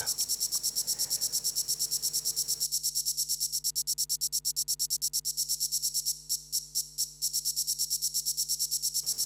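Rapid, even ticking of bright noisy white-noise hi-hat hits in a steady sixteenth-note pattern, a reverb layer in a techno track, washed in reverb, with a sustained electronic hum beneath.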